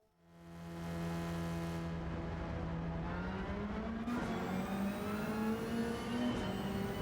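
Toyota Supra GT500 race car in Gran Turismo 7 at PP727, its engine rising from near silence into a loud, sustained whine that climbs steadily in pitch under acceleration, with a brief shift blip partway through and no talk.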